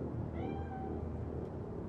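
A cat meows in Cyberpunk 2077, a single drawn-out, close meow over a steady low background hum, with no talking.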